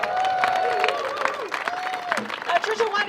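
Outdoor crowd applause at an Earth Day protest in support of the EPA in Ann Arbor, scattered clapping and cheering with voices talking over it throughout.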